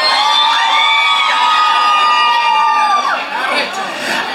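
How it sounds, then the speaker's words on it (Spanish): A crowd at a contest event in Costa Azul cheers and shouts for a contestant named Alexa, with excited whoops and children's voices in a loud, continuous roar of festive noise. "Aplausos para Alexa"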